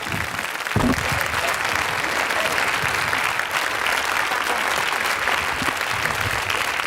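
Dense, steady studio audience applause on a French television variety show, loud and continuous from start to finish with no voice over it.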